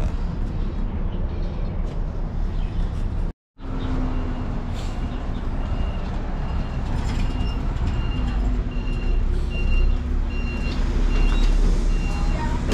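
A bus pulls in at a stop with repeated high reversing beeps ringing over a heavy diesel rumble, and soft background chatter comes and goes.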